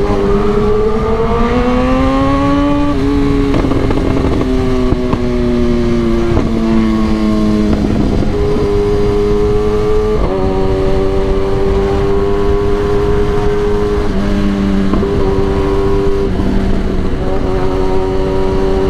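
A motorcycle races on a track with traction control switched off, its engine screaming loudly and continuously while the pitch climbs and drops through repeated gear shifts and throttle changes.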